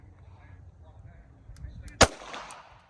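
A single sharp Sig Sauer P320 M17 pistol shot fired one-handed during a drill, loud and close, with a brief echo trailing off.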